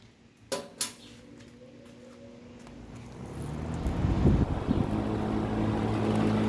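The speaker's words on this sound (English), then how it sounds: "let's go ahead and start the fan up on high" A Berns Air King 20-inch box fan, model PR-20S, is switched on at high speed after a couple of clicks, its motor hum and airflow rising steadily into a loud, broad whoosh.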